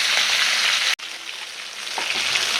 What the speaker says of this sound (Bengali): মাছগুলো ভাজা হয়ে গেছে এগুলো দিচ্ছি আর নামাই নেব যেমন লাল লাল করে ভাজছি